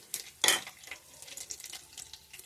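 Green chilies, curry leaves and mustard seeds hit hot oil as tempering for raw mango coconut chutney: a sudden loud burst of sizzle, then softer crackling and light utensil clinks nearby, without speech.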